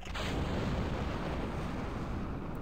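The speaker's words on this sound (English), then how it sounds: "We need to fire that rocket." Rocket engine firing in a spaceflight game, a Falcon Heavy–style launch: a loud, steady, dense roar with rumbling low end that holds unbroken throughout, with no talk.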